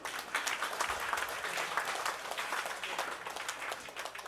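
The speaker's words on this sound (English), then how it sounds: "Let's clap for our own bishop." A crowd claps continuously, a dense, even patter of applause with no speech.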